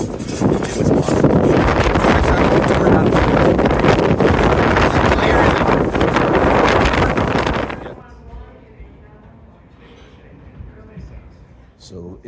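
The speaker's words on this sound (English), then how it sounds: "So it was really windy outside." Strong wind blasts across the microphone outdoors at the Mohonk Mountain House, a loud roaring buffet for about eight seconds before cutting to a quieter indoor room.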